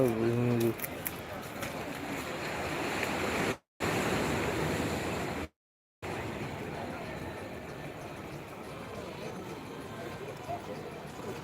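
Evening surf on the beach at Digha, a steady broad wash of waves and wind throughout, with brief dropouts.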